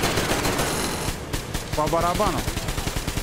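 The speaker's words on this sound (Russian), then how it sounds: "Я так-то на него сейчас все патроны страчу." Automatic gunfire from guns in the post-apocalyptic shooter Metro Exodus, with a burst of rapid shots beginning midway under a voice talking over the game sounds.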